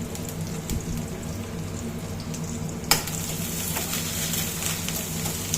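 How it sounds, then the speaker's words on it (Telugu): Onions and curry leaves fry in a pan with a steady, close sizzle and crackle, broken by a sharp clatter near the middle as the mix is stirred, with no talking. "ఇప్పుడు ఆనియన్ వేసుకుందాం ఆనియన్ కరివేపాకు వేసి ఫ్రై చేసుకుందాం"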